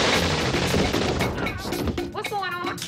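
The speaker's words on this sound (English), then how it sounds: "It sounds like machine guns." Rapid bursts of machine gun fire from a drive-by shooting in the film Friday ring out loud and dense for the first half, then fade under startled voices and shouting.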